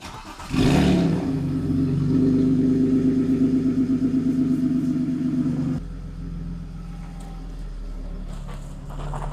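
A BMW 325i N53 engine cranks and fires for its first cold start of the morning. It flares loudly at first, then holds a raised, slightly uneven idle nearby before dropping to a lower, steadier idle.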